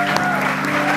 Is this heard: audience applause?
yes